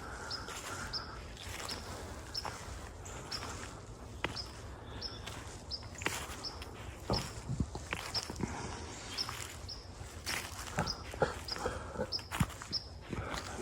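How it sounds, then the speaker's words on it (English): Soft footsteps, probably deer, moving through forest leaf litter near a big oak at daybreak; irregular faint crunches and thumps scattered throughout, with occasional bird chirps in the quiet background. "I hear footsteps."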